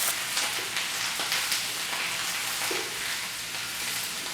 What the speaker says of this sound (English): we're going to go ahead on and get those cooked down